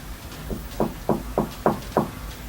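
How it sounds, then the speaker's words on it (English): Knocking on a painted-over door behind a bed: five evenly spaced, firm knocks in a steady rhythm, preceded by one softer tap, close and clear over a quiet room hum. "The knocking sounds polite yet urgent, definitely human."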